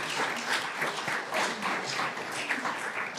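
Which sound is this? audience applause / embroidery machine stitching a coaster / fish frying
audience applause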